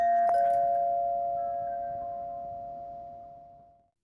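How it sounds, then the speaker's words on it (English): Single doorbell chime struck once near the start, its clear bell tone ringing on and fading slowly over about four seconds in an otherwise quiet room. "When the microphone hears the doorbell,"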